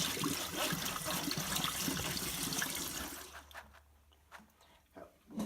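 Running water rinsing lime off nixtamal corn, a steady close splashing flow that fades after a few seconds to quieter dribbles and handling noises.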